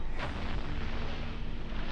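A big chain-reaction explosion in the video game I Expect You To Die 3, a dense, sustained rumbling blast with a sharp burst near the start and heavy low-end roar continuing throughout.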